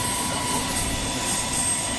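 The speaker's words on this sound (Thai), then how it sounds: "เฮลิคอปเตอร์เที่ยวนะคะจะขึ้นลำนี้" A tour helicopter at Glacier National Park, Montana drones steadily nearby, a loud continuous engine and rotor hum with no pauses.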